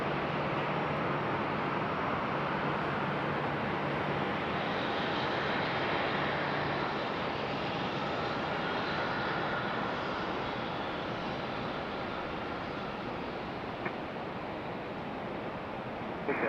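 A JetBlue airliner arriving from Boston at Raleigh-Durham airport gives a steady, loud broadband roar of jet engine noise that holds throughout, with no talk heard.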